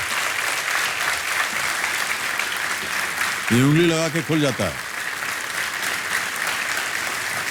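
Steady, dense applause from a studio audience on a televised quiz show, continuous and bright throughout, with someone speaking briefly over it midway.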